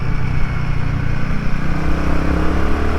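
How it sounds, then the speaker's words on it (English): A vehicle engine drones loud and close, a steady mid-pitched hum with slight rises and falls, no voices. "Hear the sound of that engine."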